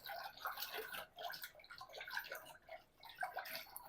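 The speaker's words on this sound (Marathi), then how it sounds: "आणि हे आपल्याला रवीने चांगलं घुसळून घ्यायचं आहे।" Curd and water are churned with a wooden churner, giving fast, irregular sloshing and gurgling bursts of liquid that sound close and fairly quiet.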